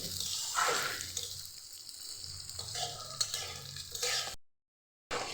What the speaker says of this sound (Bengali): এখন ডালটা আমি ভেজে নেবো